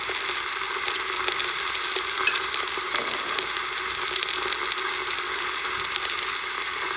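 Caraway-seasoned pot roast meat browns in a pot with a dense, even sizzle and occasional faint crackles, steady and close, no voices.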